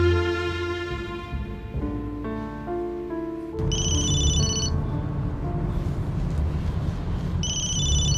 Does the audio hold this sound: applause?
no